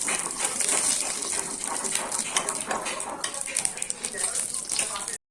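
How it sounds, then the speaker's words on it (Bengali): Cardamom, cloves and cinnamon crackle and sizzle in hot ghee, a close, busy frying hiss with light clinks of a spoon against the pan, cutting off abruptly at the end. "ঘিয়ের মধ্যে এলাচ, লবঙ্গ, দারচিনি সব দিয়ে দিলাম"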